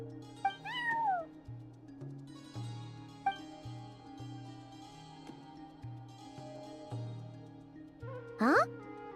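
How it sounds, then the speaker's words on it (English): A black cat meows in the Genshin Impact video game, two drawn-out meows at the start and end over soft looping background music, with no talking. "Maybe the black cat wants us to head over there."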